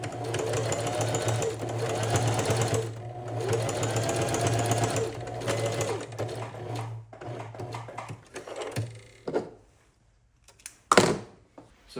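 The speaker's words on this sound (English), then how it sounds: "So after I sew the grid lines on everything" Sewing machine running in long steady bursts as it stitches grid lines across jacket fabric, with a strong hum and needle chatter, pausing briefly, then ending with a few thunks and clicks in a studio.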